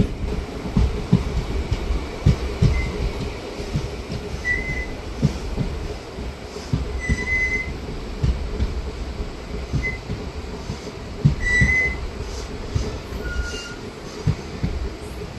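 A DEMU train runs on the Salem–Vriddhachalam line as it pulls into Ettapur Road station, loud and close. Wheels clack rhythmically on the rails, with short squeals and a faint whistle-like tone now and then, and no speech.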